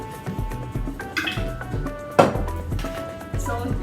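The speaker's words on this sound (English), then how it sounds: "so I'm going to pour water" Water poured over vegetables in a bowl to wash them in a home kitchen, with drips, splashes and sloshing bursts; a voice talks over it.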